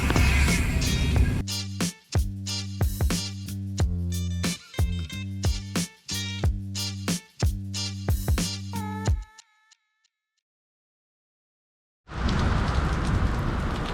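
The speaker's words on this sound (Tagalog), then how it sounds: "Hinabutan na nga ng ulan." Rain falls at an outdoor hangout spot in Tagaytay, heard as a steady broadband hiss that returns alone in the final seconds after a stretch of music and a short silence.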